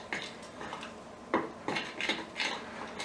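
Peanut butter dough worked with powdered sugar in a bowl, giving a handful of scraping, clinking strokes against the bowl in an uneven rhythm, close and fairly quiet.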